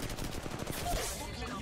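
Rapid bursts of automatic gunfire from Apex Legends Mobile crackle in a short, dense volley, loud and close, with a faint voice underneath.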